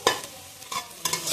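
Grated coconut dry-frying in a pan while being stirred, giving a few quick scraping strokes over a soft crackling sizzle, close and brief.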